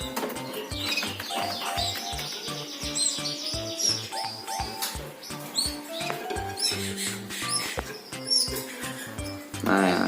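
Canary chicks chirp busily in shrill, rapid bursts while a parent feeds them, close and continuous over a quick rhythmic ticking.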